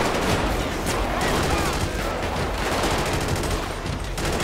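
Gunfire in the video game GTA 5, a continuous dense barrage of shots lasting the whole stretch over steady game noise, with a voice faintly present.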